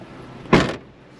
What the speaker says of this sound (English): And open the door.